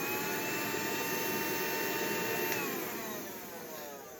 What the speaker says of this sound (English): She asked for a vacuum for her birthday, so she got one.